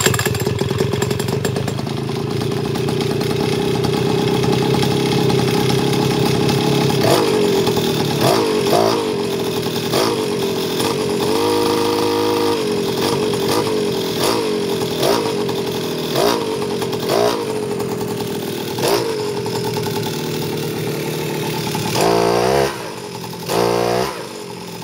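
A cold scooter engine runs with the choke off, idling loud and close with a rough, uneven buzz and several sharp revs and stutters near the end.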